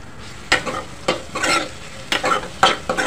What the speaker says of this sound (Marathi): कांदे परतून घेते जे बारीक चिरलेले आहेत ते